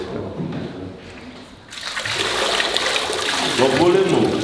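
Water is poured over a child at a baptism, a splashing trickle that turns louder and fuller partway through, with voices speaking over it.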